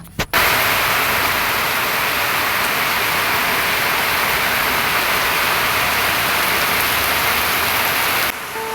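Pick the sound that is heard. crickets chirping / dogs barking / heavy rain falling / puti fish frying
heavy rain falling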